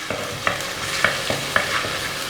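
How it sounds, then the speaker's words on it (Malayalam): Crushed ginger and garlic sauté in hot coconut oil for a duck curry, a continuous close sizzle punctuated by regular scraping stir strokes roughly every half second. "ഞാൻ ഇതിനകത്തോട്ട് ചതച്ച് വെച്ച ഇഞ്ചിയും വെളുത്തുള്ളിയും ചേർത്ത് കൊടുക്കുകയാണ്. നന്നായിട്ടൊന്ന് വഴറ്റി കൊടുക്കുക."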